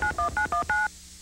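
Telephone keypad tones beep in a TV advert, five quick dial tones followed by a slightly longer sixth, crisp and loud with nothing else heard.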